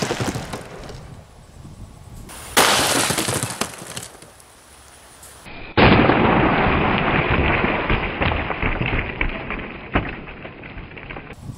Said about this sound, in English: We're gonna start out with the 500 Magnum, and again, we have some Underwood ammo,